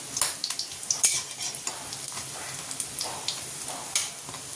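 Masur dal bora, red lentil fritters, frying in a pan: a continuous hiss of hot oil broken by frequent sharp clinks and scrapes of a utensil.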